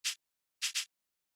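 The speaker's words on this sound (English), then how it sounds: "I just have the shaker sample." Shaker sample from a house music track, three short bright bursts of noisy rattle, one alone, then a quick pair, with silence between them.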